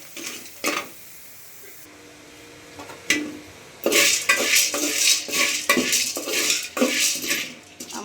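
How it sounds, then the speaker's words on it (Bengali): Chickpeas being dry-fried and stirred in a pan in a home kitchen, with sharp metallic scrapes and rattling clatter, sparse at first, then dense and continuous as stirring picks up. "এখন কটা ছোলা ভাজবো।"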